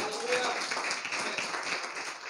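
A church congregation claps in applause during a sermon, a dense, steady patter of many hands filling the room at moderate level with a faint voice underneath.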